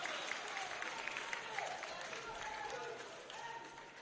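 Perth supporters at a men's National Futsal Championships match in Melbourne between Football West and Football Victoria clap and cheer in a continuous indoor crowd roar. Scattered voices rise above the steady applause.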